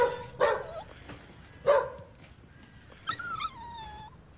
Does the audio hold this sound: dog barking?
yes